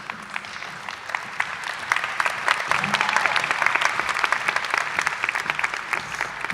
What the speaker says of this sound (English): I started clapping before you even got it out.